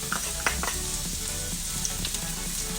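Chopped garlic sizzles in hot oil in a pan for a Cambodian crepe, a continuous close frying hiss with small pops and occasional stirring clinks.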